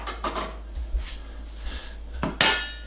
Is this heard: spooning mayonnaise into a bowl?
yes